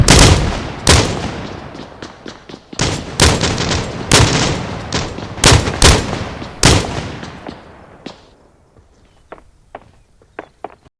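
Gunfire in a battle royale shooter match, including shotgun fire, sharp loud shots in quick bursts with short gaps that thin out into scattered single shots near the end, with no talk.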